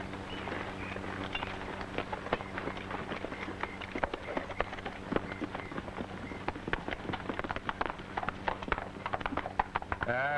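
Horses gallop with rapid, continuous hoofbeats in a Western setting, a dense clip-clop rhythm that carries steadily throughout at moderate loudness.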